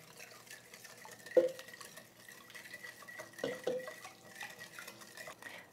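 A spoon stirs vegan cake batter of oil, plant milk and orange juice by hand in a bowl, giving soft scraping swirls broken by a few sharp clinks against the bowl, with no voices.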